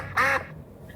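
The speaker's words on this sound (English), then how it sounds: "That sounded like a duck quack." A single loud, nasal duck quack sounds briefly and alone, close and clear against a quiet background.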